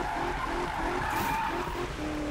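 Sustained tire squeal from a Mustang drifting through a corner in Need for Speed 2015, a loud continuous screech over a steady engine roar with no pauses.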